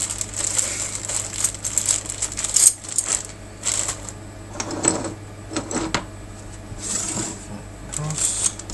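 Metal wire cutters set down onto a pile of tools and parts while a RepRap Huxley 3D printer frame is assembled, giving clinking, rattling clatter in scattered bursts close by, with a steady low hum underneath.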